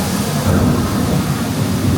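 A simulated indoor thunderstorm rumbles steadily inside a rainforest-themed restaurant, a dense low roar of thunder and rain-like hiss with no clear breaks.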